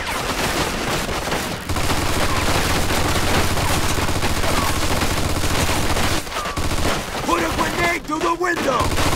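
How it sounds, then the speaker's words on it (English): Dense machine-gun fire and gunshots from the Mafia II Definitive Edition game form a loud, continuous rattle with brief pauses and sharp bursts near the end, while voices shout faintly beneath it. "Looks like we found the machine gun."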